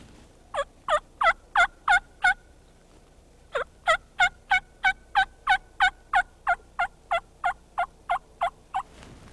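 A turkey assembly call is made by a caller imitating an old mama hen, a long series of about twenty sharp, evenly spaced yelps with a short pause after the first seven, clear and close with no talking.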